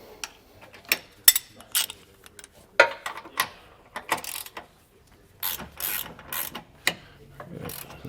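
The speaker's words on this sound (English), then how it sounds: "I am going to switch over to a 18 millimeter deep socket for the top up here" Ratchet fitted with an 18 mm deep socket clicks in short irregular bursts while loosening the front anti-sway bar bolts on a 2012 Tiffin Allegro motorhome, crisp and close, with pauses between strokes.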